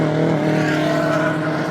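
BMW 116i Trophy race cars run at Brands Hatch during qualifying, producing a sustained engine drone with steady pitched harmonics, loud and continuous as a car holds speed nearby.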